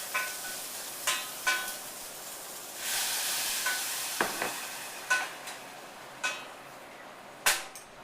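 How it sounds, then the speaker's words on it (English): Garlic, bay leaf and bulgur stew simmer-fry in a pan, giving a steady soft sizzle broken by sharp spattering pops and occasional scrapes of stirring. "I will probably simmer fry that liquid out twice"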